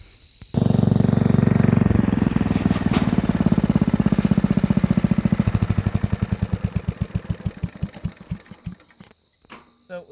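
A homemade tractor built partly from mid-70s Ford F100 parts runs on a dirt trail: its engine bursts on loudly, roars steadily, then chugs in slowing, rhythmic pulses as it winds down and nearly stops.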